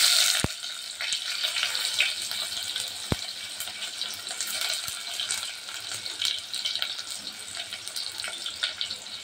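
Onion fries in a generous amount of oil in a pot for pulao, a dense continuous crackling hiss up close with occasional sharp clicks of a utensil, no voices.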